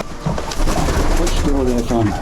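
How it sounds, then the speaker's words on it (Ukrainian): Pigeons cooing close by in a village yard in Ukraine, a soft throaty rolling call over a busy outdoor background. "А це особлива гордість господаря, голуби."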